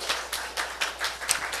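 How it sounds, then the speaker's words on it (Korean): A church congregation claps in an even rhythm at a Monday morning service, with roughly four beats per second sounding fairly close and lively. "우리 하나님께 박수 올려드려요"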